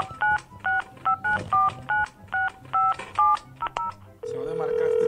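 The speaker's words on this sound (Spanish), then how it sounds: "Voy a volver a marcar mientras lo encuentra." A telephone keypad beeps out a number, about a dozen short evenly paced DTMF tones, followed by a steady ringback tone, with faint voices in the background.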